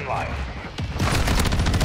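Rapid gunfire from Call of Duty Modern Warfare II starts in a burst and becomes a dense, loud stream of shots, with a voice talking over the game.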